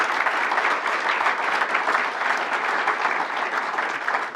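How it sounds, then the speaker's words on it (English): A conference audience gives a speaker another round of applause, a steady, dense wash of clapping that holds at the same level throughout with no voices over it. "Let's give Kurt another round of applause"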